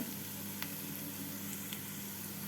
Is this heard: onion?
yes